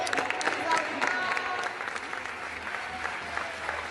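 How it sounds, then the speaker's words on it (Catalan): Sustained applause from an audience at a sports foundation award ceremony, steady dense clapping with crowd noise throughout, moderately loud and close. "Aquests aplaudiments"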